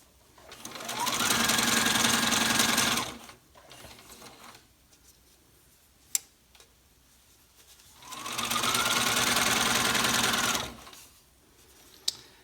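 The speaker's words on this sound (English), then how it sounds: "Make sure you're not going to sew over the elastic in the middle there." Sewing machine running in two long bursts of rapid stitching on a fabric face mask with elastic straps, each spinning up and running steadily for about two seconds, with quiet handling clicks between.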